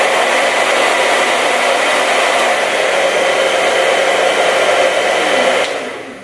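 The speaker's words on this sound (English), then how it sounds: "Like a normal sound of a blow dry" Conair Silverbird hair dryer running close by, a loud steady whooshing roar with an even motor hum that holds for several seconds and then starts to wind down.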